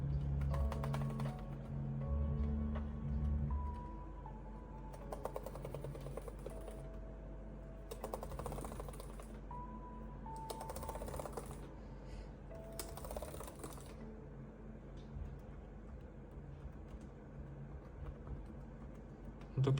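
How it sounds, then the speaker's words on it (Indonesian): Keys clatter at a quiet, close distance on a Lenovo Legion 5 OLED 2025 laptop keyboard during a function test, a run of soft irregular taps with a low electronic hum underneath. "Selanjutnya kita coba tes keyboardnya."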